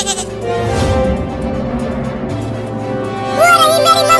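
A cartoon goat bleats loudly in a wavering, repeated call, joined by clear bleats near the end and some background noise.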